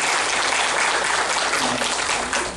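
Dense, sustained applause fills a hall as an audience welcomes the chairman of a national advisory committee at a committee launch ceremony, steady and loud throughout.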